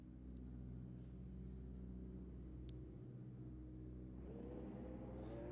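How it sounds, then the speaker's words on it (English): Indy race car engine in a racing sim, a low steady idle drone that holds level throughout and rises slightly in pitch near the end as it revs, with no talking. "You can hear the car start up again."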